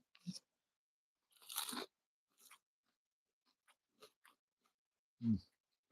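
Crunchy deep-fried oyster mushroom with a pork chicharron coating being chewed up close, a few loud crisp crunches spaced out between quieter bites, with faint talk in the background.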